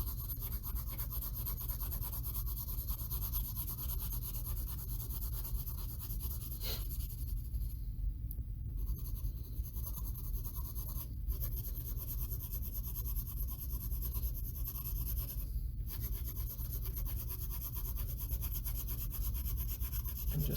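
Pencil shading on paper to fill in a value scale, a close, continuous scratchy rubbing of graphite strokes with a few brief pauses, steady in loudness.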